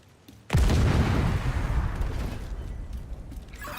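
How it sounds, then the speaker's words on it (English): A loud video game explosion bursts suddenly after a brief quiet moment, a heavy boom that rolls on and slowly fades over a few seconds. "I think there's an explosion here."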